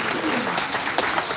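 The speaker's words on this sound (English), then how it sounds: "Let's give a round of applause" Brief round of applause at a live cooking class aboard a cruise ship, scattered hand claps rising together over a busy room, with a voice talking faintly underneath.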